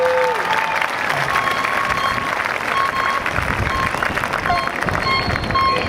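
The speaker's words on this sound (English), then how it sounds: "Join me in giving them a round of applause." Applause from an audience at a high school graduation, a steady wash of clapping throughout, with a few faint tonal sounds over it.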